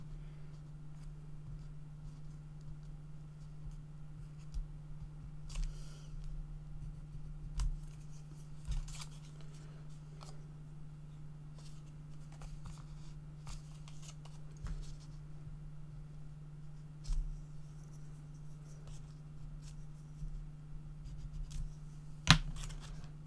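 Scissors snipping paper for a craft mini album, sparse quiet cuts and paper handling scattered over a low steady hum, with one sharper snip near the end.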